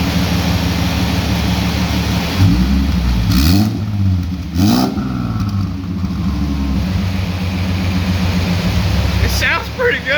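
Ford Mustang S550 with a 3.7 V6 turbo kit revving in short blips over a steady idle, loud and close, with people talking in the background.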